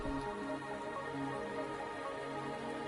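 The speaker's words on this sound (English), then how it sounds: "still it's raining" Steady rain in the video game Wuthering Waves, a soft continuous patter that fills the whole stretch with faint tonal game ambience beneath it and no talk.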